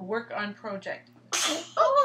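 A single sharp sneeze bursts out right after someone speaks, loud and close, with talking resuming just after it.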